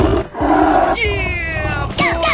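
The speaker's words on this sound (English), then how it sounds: "tiger," A cartoonish tiger roar in a 3D animal sliding game, a loud growling call with harmonic tones layered over bright game music and effects, lasting about two seconds.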